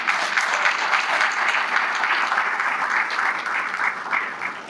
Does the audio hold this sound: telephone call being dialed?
no